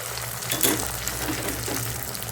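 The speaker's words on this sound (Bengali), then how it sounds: "এখন আমি ডিমটাকে ভালো মতো ভেজে নিচ্ছি" Beaten egg seasoned with salt fries in hot oil in a pan, a continuous close sizzle with soft crackling throughout, no voices.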